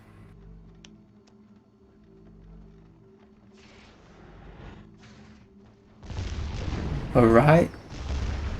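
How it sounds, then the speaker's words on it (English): Heavy Worldbreaker gun blasts fire at battleships in the Skylords Reborn strategy game, giving a loud, dense burst of booming impacts near the end after quieter game ambience, with someone speaking briefly. "Again, Worldbreaker gun, destroying all the battleships."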